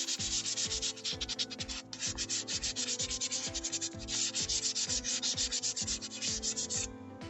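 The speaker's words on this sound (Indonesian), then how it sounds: "Pakai amplas yang paling halus lah, jangan kasar-kasar." Fine sandpaper rubbed back and forth across the surface of a front brake pad from a Chevrolet Spin, a steady rhythmic scraping of quick close strokes that runs nearly unbroken and loud, with no talking.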